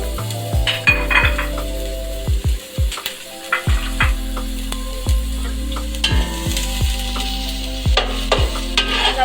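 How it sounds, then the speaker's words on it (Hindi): Three medium sliced onions fry in oil in a pot for Hyderabadi yakhni pulao, with a steady sizzle under frequent scraping stirs and light metallic clinks of the spoon against the pan. "मैं इसमें प्याज लाल करूँगी"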